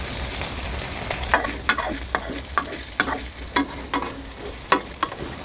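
Pad thai noodles are stir-fried in a hot pan, with a steady sizzle under repeated sharp scraping and tossing strokes from a spatula, close and alone with no talk.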